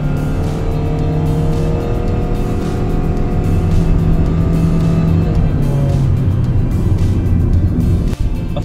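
A 2022 Perodua Myvi's engine drones steadily inside the cabin, its tone shifting as the car picks up speed.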